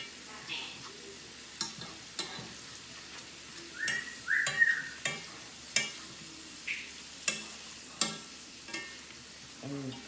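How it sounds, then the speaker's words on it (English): Butter melts in a cast iron pan on the stove, giving a faint, steady sizzle with soft clinks and scrapes at regular intervals, quiet and close, with no voices. "So get your butter melted."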